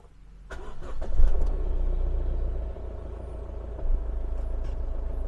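A car engine starting: a brief starter crank, then the engine catches, revs up and settles into a steady, moderately loud idle.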